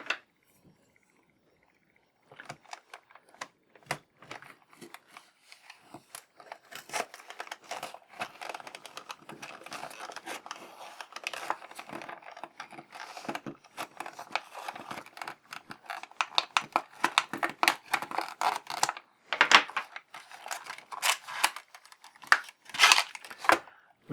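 Plastic and cardboard crinkling, tearing and clicking as a GI Joe Renegades Law and Order action figure package is opened, a steady run of close, scratchy handling noises with sharp snaps and rustles, no talking.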